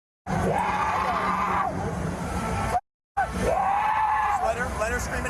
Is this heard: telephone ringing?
no